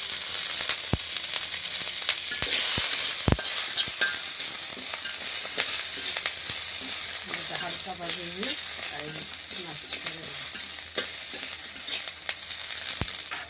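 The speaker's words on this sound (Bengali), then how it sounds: "তেল তেজপাতা দিল অলরেডি। এই যে মুখের ডাল দিব এখন।" Oil with bay leaves sizzles and crackles loudly in a pan as moong dal goes in, with occasional sharp clicks of stirring and a faint voice in the middle.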